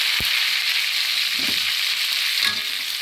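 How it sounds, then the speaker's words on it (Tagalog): Leftover mixed vegetables sautéing in a pan with onion, garlic and tomato, giving a steady close sizzle with a few soft stirring scrapes and no talk. "Igisa ko siya sa sibuyas at saka bawang at saka sa kamatis."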